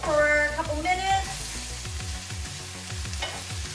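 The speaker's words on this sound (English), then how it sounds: "I'm gonna go ahead and throw all my mushrooms right on in the skillet. And I'm gonna cook these for a couple minutes." Sausage and baby portobello mushrooms sizzle steadily in a skillet with a soft crackling hiss and repeated stirring knocks. Brief tonal sounds come in over the frying at the start.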